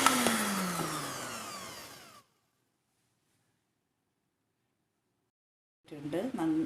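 A mixer whirs through jam roll batter for about two seconds and then stops, followed by silence before a voice begins speaking.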